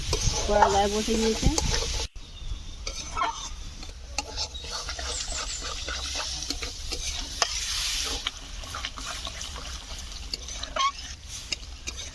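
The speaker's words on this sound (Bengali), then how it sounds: "এটা ভালো করে কষলে সুন্দর একটা পুরো মাংসের মতো হবে" Chana masala is stirred and sautéed in a pan, giving soft scraping and sizzling strokes after a brief voice at the start, then steady low frying crackle with repeated spoon scrapes.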